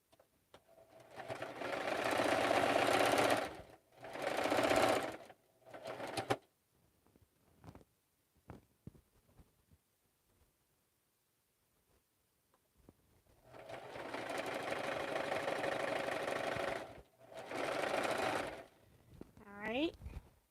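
A sewing machine stitches pressed quilt pieces in several loud, close runs of whirring, broken by quiet gaps with light handling noises, and a voice briefly speaks near the end.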